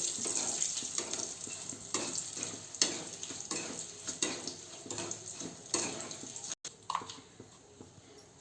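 Curry leaves fry in hot oil in a tempering pan, giving a steady crackling sizzle with bursts of spitting and a brief stir, close and fairly loud, with no voices.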